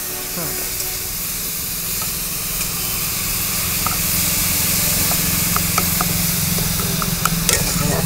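Onions frying in oil over a high flame for an Odia yam dish, a continuous broad sizzle and hiss that swells slightly louder over time, with faint clicks and a little background talk.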